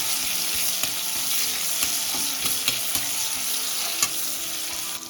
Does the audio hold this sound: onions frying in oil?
yes